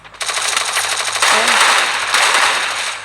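Rapid automatic gunfire in the Free Fire video game rattles loud and continuous in long sustained bursts, with a voice briefly audible underneath.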